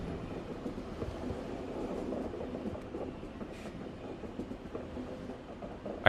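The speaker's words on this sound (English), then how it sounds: "I can't hear shit because of the train." A train passes nearby with a steady rumble and clatter of rail cars, fairly quiet and continuous for several seconds, with no voices over it.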